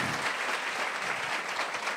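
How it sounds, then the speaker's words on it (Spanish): A church congregation at a Sunday morning service claps in a brief, steady burst of applause, warm and even throughout. "Así que los podrían saludar y darles un gran aplauso."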